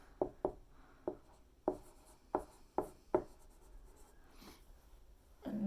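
Chalk or marker strokes writing math on a board, a series of about eight short, sharp taps and scrapes spaced irregularly, close and clear, with no talking.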